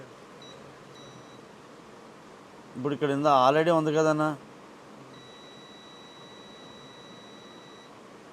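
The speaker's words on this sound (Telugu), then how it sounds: "బజర్ మోడ్ పెట్టండి." A multimeter in continuity buzzer mode, used while repairing a Redmi Y3 phone with a touch fault, gives a high steady beep; someone speaks briefly in the middle, then a long beep sounds alone.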